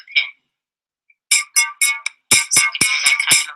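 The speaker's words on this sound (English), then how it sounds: "you can hear there's a little bit of music in the background" Kahoot lobby waiting music plays in short, bright melodic bursts with rhythmic percussive hits, starting sparse after a quiet gap and then becoming steady and busier, moderately loud with no talking over it.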